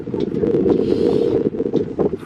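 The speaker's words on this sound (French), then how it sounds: "Il y a un petit peu de vent, mais sinon il fait chaud." Wind gusting at Coronado Beach in San Diego, buffeting the microphone with a loud, continuous low roar that flutters and dips briefly near the end.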